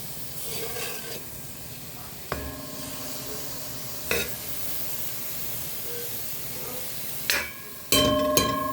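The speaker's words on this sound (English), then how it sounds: "you want to add the water while you're still hearing that sizzling song" Steady frying sizzle and hiss from a pot of curried goat, with a few sharp stirring clanks and scrapes breaking through at intervals.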